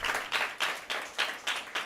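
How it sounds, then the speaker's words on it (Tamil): A congregation at a Tamil Christian sermon claps in a quick, even rhythm of about six claps, moderately close, with no clear shouting or talk. "கைத்தட்டி கத்தர ஹல்லேலூயா"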